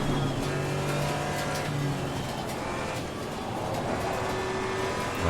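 A Porsche 718 Cayman GT4 Clubsport drones steadily at Silverstone in the Assetto Corsa racing game, a loud sustained engine note with shifting pitch and faint tire noise.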